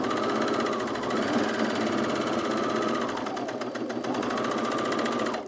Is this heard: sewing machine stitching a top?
yes